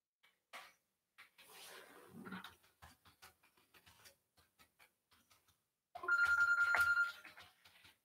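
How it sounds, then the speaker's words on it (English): A cell phone rings with a short electronic ringtone burst near the end, preceded by faint ticks, clicks and rustling in a quiet room. "Cold calling my cell phone."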